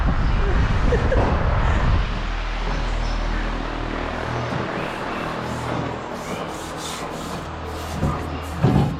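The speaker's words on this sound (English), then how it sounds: "Just cleaning this thing up, wire brushing it." Wire brush scrubbing a Walker mower part being restored, continuous close scratchy rasping strokes that fade slightly toward the end before a few louder knocks, with speech in the background.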